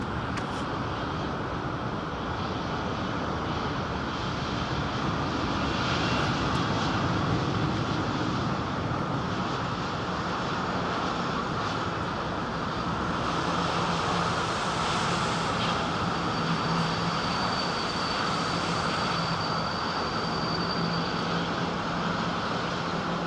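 A heavy airliner on approach to London Heathrow Airport, heard as a steady, loud, continuous engine roar that holds for the whole stretch, with no speech.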